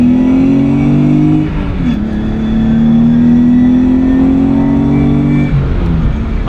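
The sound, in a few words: 400 horsepower Nissan 300zx accelerating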